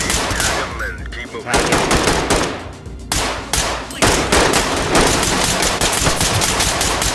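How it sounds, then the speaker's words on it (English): Gunfire in the tactical shooter game Ready Or Not, loud rapid automatic bursts and single shots with brief gaps and metallic clangs, plus some faint voices. "I fired once and my character just had no ammo all of a sudden."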